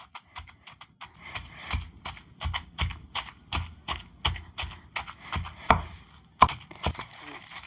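Chennangi leaf chutney with chillies is pounded by hand, a steady series of close, sharp thuds in a quick regular rhythm with no talking.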